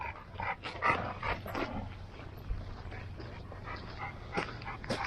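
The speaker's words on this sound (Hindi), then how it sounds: "इसको बुलडॉग बोलते हैं, ये बहुत ही खतरनाक है।" A bulldog near Waterfall Glen Forest near Chicago gives short yips, whimpers and brief barks, several clustered near the start and more scattered later, over a steady low outdoor rumble and murmur.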